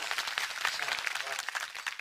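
Audience applause at a comedy kirtan in Barshingave, Nashik: dense, steady clapping from a crowd for the whole stretch, with some voices mixed in.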